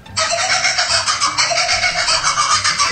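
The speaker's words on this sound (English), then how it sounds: "laughter of the kookaburra. It's a kingfisher bird found in Australia" An Australian kookaburra, a kingfisher, gives a loud, close laughing call, a long run of rapid pulsing cackles that rise and fall in rhythm and carry on without pause.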